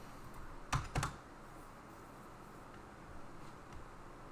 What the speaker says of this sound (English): hate this freaking keyboard